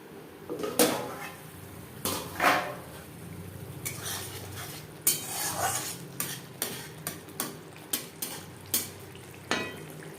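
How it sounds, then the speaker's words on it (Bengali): Spice masala for a katla fish curry with tomato is stirred and fried in a pan, with repeated scraping and metallic clinks of a spoon against the pan over a low sizzle, close and fairly loud, with no talk. "ঢাকনা চাপা দিয়ে চার পাঁচ মিনিট মশলা কষিয়ে নেব"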